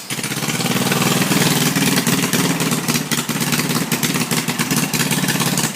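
A warmed-up custom go-kart engine runs steadily at a fast, rattly idle, loud and close, holding a constant throbbing drone with light clatter throughout.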